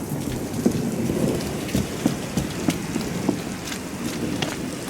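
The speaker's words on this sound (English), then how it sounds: "It's raining so hard," Heavy rain pours steadily during a thunderstorm, a dense close hiss with scattered louder drops and patters striking a surface, continuous and without talk.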